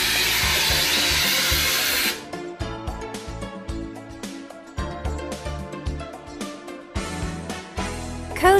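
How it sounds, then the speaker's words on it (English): A loud, steady whooshing roar of a vacuum cleaner removing buffing dust from a tire during patch repair runs for about two seconds, then cuts off, leaving clattering and tapping noises. "use a vacuum cleaner to remove the buffing dust."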